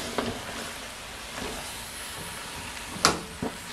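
A spoon stirs rabbit gumbo in a pot on the stove, a soft steady sizzling hiss with a few faint scraping clinks against the pot, the sharpest one near the end.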